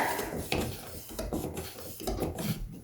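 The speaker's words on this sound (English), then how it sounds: "I'm just going to stir this up a little bit" Scraping and knocking of a stir stick inside a can of polyurethane, worked in a few irregular strokes close by with soft wooden rubbing, before a pool bath backsplash is refinished.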